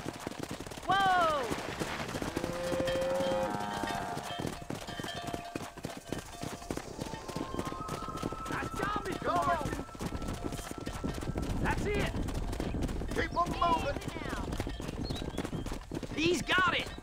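Rhythmic hoofbeats of horses clip-clopping along in the video game Red Dead Redemption, herding cows down a road, with a man calling out and other voices shouting over the steady clatter.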